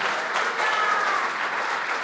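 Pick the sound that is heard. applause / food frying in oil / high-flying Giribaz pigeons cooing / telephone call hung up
applause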